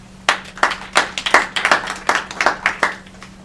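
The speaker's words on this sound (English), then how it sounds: "Clap your hands if you like to move." Audience members at a community reading clap their hands in sharp, irregular claps close by, a scattered run of a dozen or so slaps against a faint low hum.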